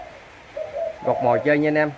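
A caged, wild-caught songbird gives a few short whistled calls, close and clear, as someone talks over the end.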